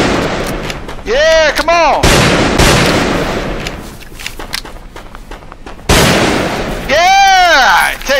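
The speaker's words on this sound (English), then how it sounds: "Let me get my shotgun out." Shotgun blasts in the Roblox western game Westbound, several loud booming shots with ringing tails spread across the stretch, someone talking excitedly over the gunfire.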